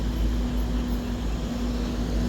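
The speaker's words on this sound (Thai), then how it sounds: "10 ล้อนี่ก็แล่นไวขนาดแล้ว" A ten-wheeler truck drives fast on a road in Laos, a loud, steady engine and road rumble with a constant low hum throughout, close and unbroken, with no voices.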